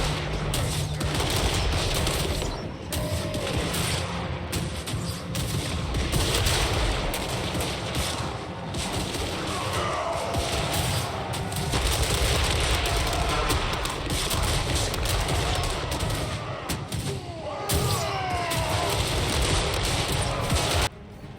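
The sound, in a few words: towers shooting in video game Warhammer 3 battle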